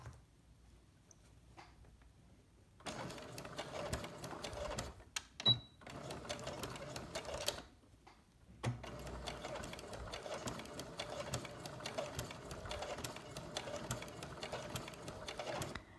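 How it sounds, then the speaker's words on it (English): Close-up sewing machine stitching a quilted pot holder along bias tape, running slowly in two long bursts of rapid rhythmic whirring, separated by a brief pause and a small click. "Okay, so I'm going to start sewing."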